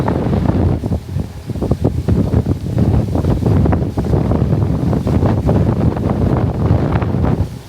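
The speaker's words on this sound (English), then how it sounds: "Very windy." Strong wind buffets the microphone in continuous loud gusts, with a low roar and rumble throughout and no voices.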